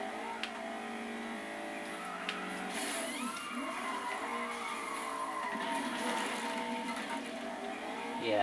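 Race cars in the FlatOut Ultimate Carnage video game, with engines droning and tires screeching into long skids over a steady, loud wash of game noise.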